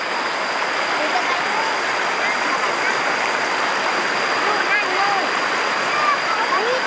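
Mountain stream water pours down over the rocks of the Kaeng Hin Phoeng rapids in a steady, loud, broadband rush. It continues without a break throughout, with faint voices of people playing in the water underneath.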